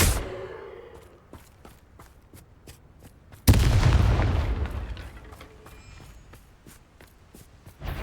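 An Incendio fire spell goes off in Hogwarts Legacy with a sudden loud whooshing burst that fades out slowly, set among regular sharp ticking clicks and a few softer hits from the game.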